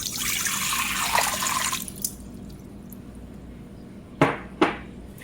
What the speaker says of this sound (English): then you got to put your water into the bowl.